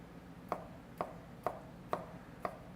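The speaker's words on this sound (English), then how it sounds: "Lay them flat, and we're going to slice them into like julienne shapes" A knife slicing a peeled tomato into julienne strips on a board, five crisp even chops about half a second apart, close and quiet with no talking.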